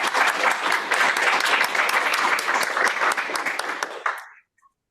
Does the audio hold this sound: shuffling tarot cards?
no